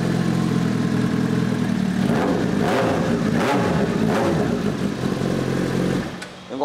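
A 2007 Honda CBR1000 motorcycle engine runs loud and close, holding a steady mechanical drone with a few smooth rising and falling revs before easing off at the end.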